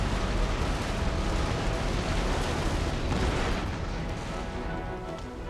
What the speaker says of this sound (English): I'm going to take another round shot, and then load Grapeshot.